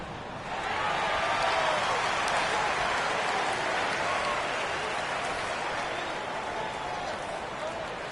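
A grateful NBA 2K25 arena crowd applauds at center court, a steady wash of clapping and cheering that swells in and holds at moderate loudness throughout.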